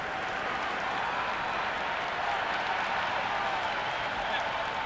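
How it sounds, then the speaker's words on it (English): A cricket stadium crowd roars continuously during the 2003 World Cup final between India and Australia, a dense, loud wash of cheering with scattered clapping that stays steady throughout. "Will you listen to that crowd? They are loving this."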